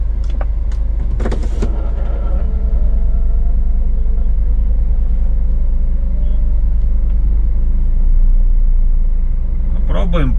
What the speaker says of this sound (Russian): Мы попали в пробку.